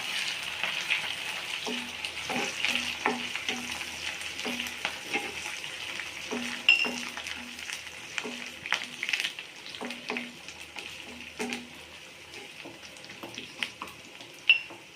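Onions and curry leaves fry in a pan with a continuous crackling sizzle, while repeated scraping and tapping of a stirring utensil comes in quick, irregular bursts.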